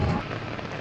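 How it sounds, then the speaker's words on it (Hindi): Heavy rain falls steadily on a garden, a dense, continuous hiss of drops pattering on surfaces and foliage, close and even throughout with no talking. "3 दिन हो गए हैं लगातार बारिश हो रही है"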